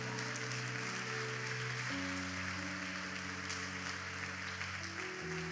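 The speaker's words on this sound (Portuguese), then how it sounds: "Aplauda ao Senhor Jesus" A church congregation applauds during worship, with steady, even clapping from many hands spread under sustained organ or keyboard chords that shift pitch partway through.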